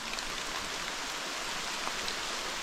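Steady rain falls in the bush around Waitui Falls in New South Wales, a dense even hiss of drops with a constant, moderately loud wash and no voices.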